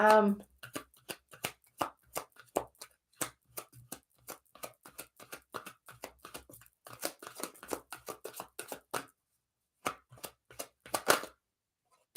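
Tarot cards being shuffled by hand, a long run of quick crisp riffling snaps and taps, close and fairly quiet, with short pauses and a lull near the end.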